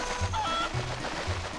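Chicken clucking in The Legend of Zelda: Twilight Princess, three short low clucks spaced evenly apart, faint and alone.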